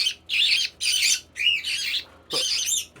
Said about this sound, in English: here are the Quaker Parrots